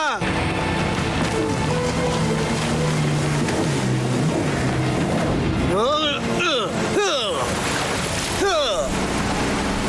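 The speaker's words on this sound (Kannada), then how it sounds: "ಮೋಟರ್ ಬೋಟ್ ನ ಸ್ಟಾರ್ಟ್ ಮಾಡಿ ಪ್ಲೀಸ್" A cartoon motorboat engine roars steadily throughout, backed by dense music and sound effects, with sweeping whoosh effects over the last few seconds; voices may come through underneath.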